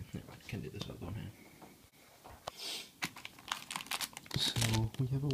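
Crinkly rustling of packaging plastic and paper from a Blue Yeti microphone, studio headphones and Knox pop filter, handled close up in irregular bursts, with some voice in between.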